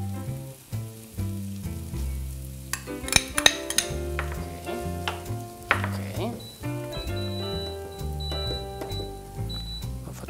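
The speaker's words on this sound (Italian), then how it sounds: "lasciamo rosolare il guanciale" Guanciale browning with red onion in a pan, a steady sizzle under bright tonal background music, with utensil clinks.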